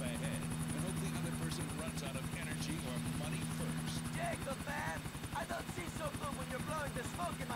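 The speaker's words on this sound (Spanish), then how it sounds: "Se descontrola el helicóptero." A helicopter spinning out of control in GTA IV, its rotor giving a steady rapid chop and whine throughout, with people talking and chattering over it.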